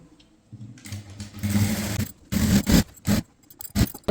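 A sewing machine stitches a chudithar top in several short bursts, its motor whirring and needle chattering up close, with brief pauses between runs and no talking.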